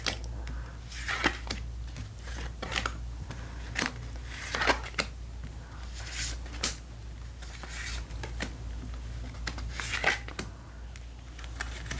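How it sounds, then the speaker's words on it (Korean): Tarot cards being shuffled and drawn one by one for a ten-card reading, a soft riffling and papery slapping in short bursts, close and quiet over a low steady hum. "개인 리딩 때 해드리는 것처럼 10장의 카드 뽑아드리고 있습니다"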